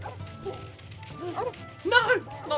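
Dog named Mustard in the video game Lego Pirates of the Caribbean gives several short yipping barks and whimpers, quick and high, under and between people speaking.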